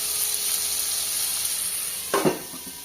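Bitter gourd, potato and onion frying in a pan with salt and turmeric make a continuous close hiss, then a brief louder scrape and sizzle burst as they are stirred, with no talking.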